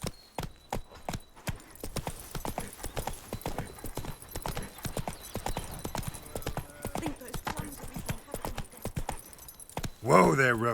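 Geralt's horse Roach gallops in The Witcher 3 video game, hooves clip-clopping in a steady, fast rhythm throughout, with a brief louder burst near the end.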